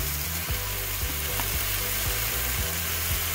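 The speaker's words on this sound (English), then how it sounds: "you hear that sizzle?" Deli melt wraps sizzle steadily in a pan, a dense continuous frying hiss with a low repeating hum underneath, close and even throughout with no talking.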